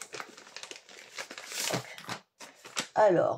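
Plastic packaging from a Temu order crinkles and crackles as it is torn open by hand, close and intermittent, with a voice speaking briefly between the rustles.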